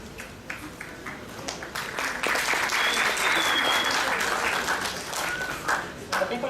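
A keynote audience at a student entrepreneurship summit applauds, a crowd of many hands clapping that swells in the middle and then thins into scattered claps, heard from within the hall, with faint voices underneath.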